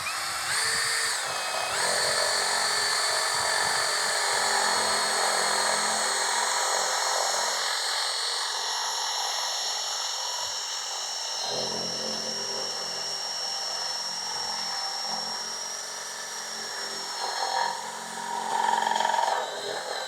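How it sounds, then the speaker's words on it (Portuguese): Tecepo 21V cordless drill boring with a 1-inch flat spade bit at high speed, a loud sustained whining buzz with slight shifts in pitch as the bit cuts, running almost continuously. "Vamos testar agora com essa broca chata de 1 polegada."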